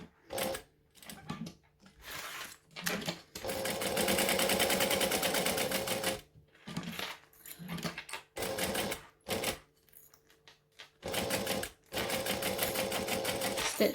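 A home sewing machine stitching tight curves on a fabric batwing wallet, running in short bursts and longer steady runs of rapid mechanical chatter separated by pauses, close and moderately loud.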